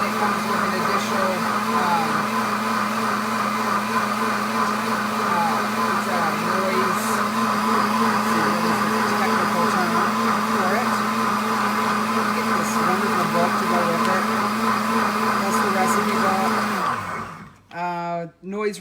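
A blender runs its heated wash cleaning cycle, giving a loud, steady motor whir that holds for about seventeen seconds, then cuts off abruptly with a few brief clunks.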